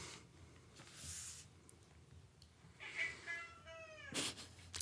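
A cat meows a couple of times, a drawn-out, wavering cry that rises and falls, quiet and close against a hushed indoor background.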